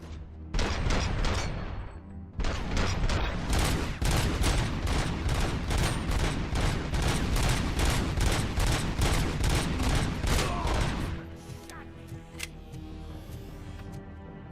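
Rapid automatic gunfire from a high-capacity weapon in Robocop: Rogue City, a long loud burst of evenly spaced shots lasting about ten seconds, then stopping abruptly into a quieter tail.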